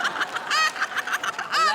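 A rooster clucks in short, repeated bursts, loud and close, with a steady choppy rhythm and no talk over it.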